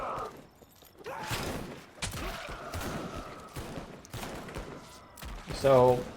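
Gunfire in the trench video game Over The Top, bursts of rapid shots crackling amid chaotic battle noise and zombie groans, with someone talking over it and a louder blast near the end.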